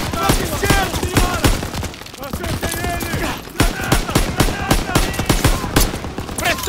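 Machine gun fire and rapid gunshot bursts from a World War II battle in Call of Duty WWII, loud and dense throughout, with overlapping shouted voice lines and battle noise.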